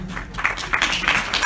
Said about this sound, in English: Give her a big round of applause there.